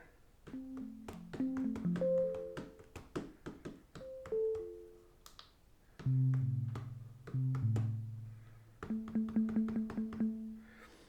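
Sampled multisample keyboard notes on an Ableton Move are struck hard in short, uneven phrases, each key hit sharp and percussive, with brief pauses between runs.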